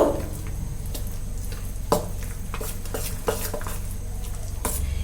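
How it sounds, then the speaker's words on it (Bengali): Spices being stirred into a dhoka dalna curry in a pan, a sizzling base broken by repeated scraping clinks of a utensil against the pan, close and moderately loud. "এবার এই মশলাগুলোকে কিন্তু সুন্দর করে মিশিয়ে দেব।"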